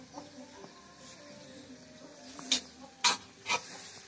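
A chicken clucks faintly, then gives three short, sharper clucks close together near the end against quiet village background.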